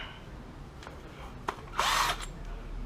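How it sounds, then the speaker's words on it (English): A power drill whirs in one short, loud burst driving a screw during a Ford Fiesta ST upgrade, preceded by a couple of faint clicks and handling noises, in an otherwise quiet space. "Could use the drill."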